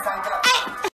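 A short, high meow rises over background music, with a brief second mew near the end before the sound cuts off.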